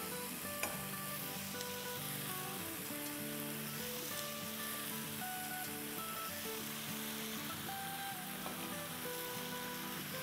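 Chicken pieces fry and sizzle steadily in a pan with chili sauce and hot sauce, a dense continuous crackle with occasional stirring clinks, close and fairly loud with no talk.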